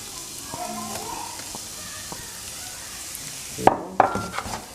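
Chopped onion frying in oil in a pan with a steady soft sizzle, stirred with a few scraping utensil strokes and two sharp clanks against the pan near the end.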